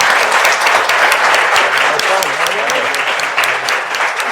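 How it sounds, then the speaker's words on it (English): Loud, sustained audience applause for the speakers at a politics event, a thick wash of many hands clapping close and steady throughout, with faint voices mixed in. "Let's give a round of applause for our"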